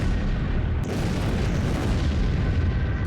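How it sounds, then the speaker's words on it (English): A dramatized Tunguska meteor fireball explodes over the Siberian forest, a continuous dense roar and rumble with a sharp burst near the start, loud and sustained throughout. "the fireball entered our atmosphere and violently exploded above Siberia's Tunguska forest"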